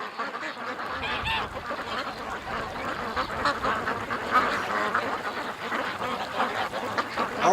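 Agitated ducks quack repeatedly and close by outdoors in strong wind, a dense run of overlapping calls with some goose-like honks.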